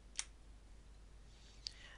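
Keys on a UK computer keyboard clicking, two crisp, isolated presses spaced over a second apart in a quiet room.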